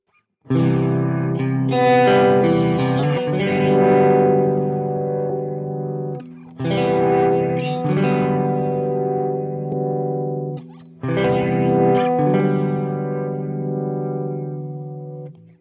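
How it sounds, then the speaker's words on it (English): Guitar through the Quad Cortex bass flanger at its default settings, three long ringing strummed chords, each left to sustain and decay before the next, clear and close with no talking. "So here's the bass flanger, the way it comes out of the box."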